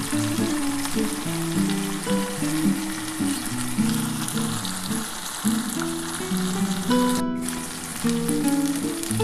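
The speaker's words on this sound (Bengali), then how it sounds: "এবার আমি অল্প একটু জল দিয়ে দেবো" Water poured into aar fish curry frying in a hot pan sets off a steady, crackling sizzle that keeps going at an even level, with a faint tonal hum underneath and no talking.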